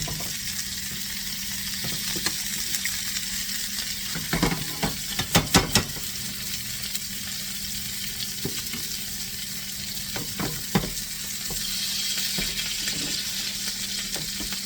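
Rib eye steaks frying in butter in a pan give a steady, loud sizzle throughout, broken by a few brief utensil knocks and scrapes near the middle and later, with no talking.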